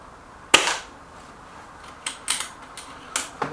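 A Stoeger XM1 Bullshark bullpup air rifle fires a JSB pellet with one sharp close crack, followed by a few softer mechanical clicks and snaps.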